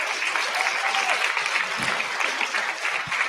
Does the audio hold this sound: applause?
yes